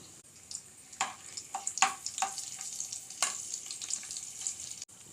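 Cumin and garlic cloves hit hot oil in a kadai, giving a soft, steady sizzle with several brighter crackling bursts and spatters rising and falling over a few seconds, fairly quiet and without talk.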